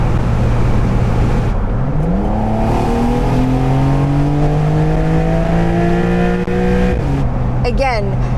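A 2023 Mercedes-AMG SL 63 in sport mode accelerates hard on the road, its engine note climbing through rising pitch sweeps with a clear upshift midway, loud and close inside the cabin, with a brief burst of speech near the end.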